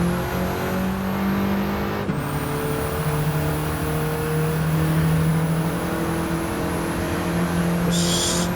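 Race car engines howling in a racing video game at Mt. Panorama in a 20-car field, one close engine droning steadily as it accelerates with gear changes and other cars audible around it.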